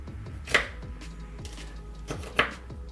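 A knife chops diced ham, onion and sweet peppers on a cutting board for omelets, with a couple of sharp, distinct cuts standing out above quieter tapping and low background hum.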